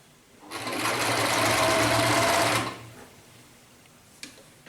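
A sewing machine stitches a princess-cut kurti in one steady, close, loud run of about two seconds, followed by a quiet pause and a single soft click.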